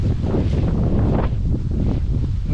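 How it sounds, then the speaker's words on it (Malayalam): Strong wind gusting outdoors, a loud, continuous low roar and buffeting across the microphone with rustling underneath and no talking. "നല്ല കാറ്റുണ്ട്."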